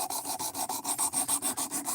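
A factory knife edge being sharpened gives quick, even rasping strokes, about four or five per second, close and fairly loud with no talking.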